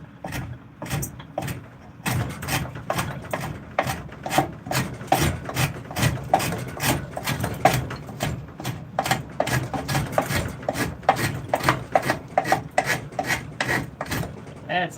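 A hand plane shaves a wooden spoon blank in quick, rhythmic rasping strokes, each a short scraping burst close by, repeating steadily with few pauses.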